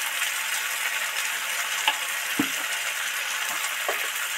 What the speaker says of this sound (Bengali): 1 চামচ হলুদ গুঁড়ো।